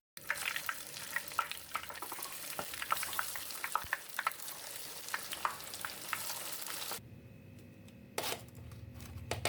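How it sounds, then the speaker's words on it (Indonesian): Cireng kerupuk, tapioca crackers, frying in hot oil give a constant close crackling sizzle with small pops and stirring clicks, cutting to a quieter background near the end before a final short burst. "Dan goreng semuanya sampai selesai."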